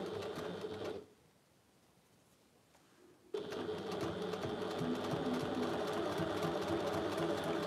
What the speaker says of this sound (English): And I'm going to sew all the way down this line